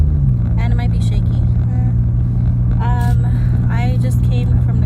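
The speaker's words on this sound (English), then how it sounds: "Is this car really loud?" Steady loud engine and road rumble fills a moving car's cabin throughout, with someone talking over it in short bursts.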